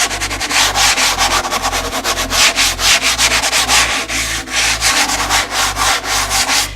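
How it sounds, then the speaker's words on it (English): A Venetian plaster (grassello) decorative finish is lightly hand sanded in steady, rhythmic rasping strokes, loud and close, with no talk. "The first thing I want to do to this is I just want to lightly sand it."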